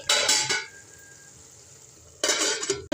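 Tomato chutney cooking in a pan makes two short bursts of sizzling and stirring, with a quiet stretch between them.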